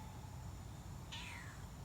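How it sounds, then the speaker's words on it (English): A single cat meow in a farmhouse setting, a short rising-then-falling cry arriving near the end, fairly clear over steady low background rumble. "that's a pretty kitty"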